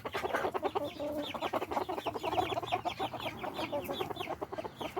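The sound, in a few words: baby chicks and chickens in a barnyard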